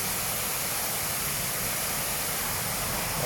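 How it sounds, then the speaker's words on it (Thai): Water pours strongly at the Huai Yang reservoir in Ban Huai Yang, Huai Thap Than district, Sisaket, a dense, steady rushing hiss that holds at an even loudness throughout, with no voices. "น้ำไหลแรงเลยครับพี่น้องครับไหลเวียนๆได้นะครับ"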